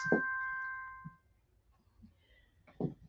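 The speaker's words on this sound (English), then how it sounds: "My phone is on mute, my watch rings." A smartwatch notification rings once, a clear, bright electronic chime with a ding-dong tone that sustains for about a second and then fades, heard close and fairly loud against a quiet room, followed by faint shuffling.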